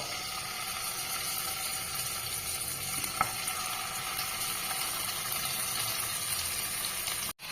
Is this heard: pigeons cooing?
no